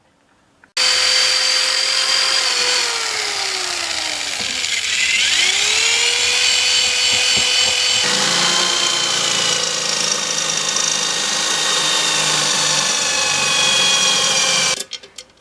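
A high, steady whine from a small power tool etching a metal area on a stool, running continuously for about fourteen seconds with shifts in pitch as the load changes, loud and close.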